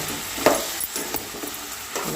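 Eggplant pieces seasoned with salt are stirred in a pan, a spoon scraping and clinking close by over a soft, steady sizzle, with no talking in this brief moment.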